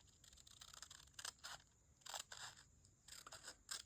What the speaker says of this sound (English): I'm going to cut along